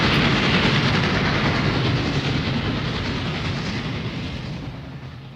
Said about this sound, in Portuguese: o Pequeno Príncipe avistou um trem iluminado que vinha passando roncando como um